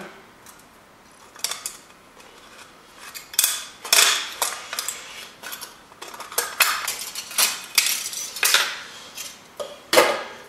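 Repeated sharp snips and crinkly metallic cuts, close and irregular, with light scraping between them; no talking.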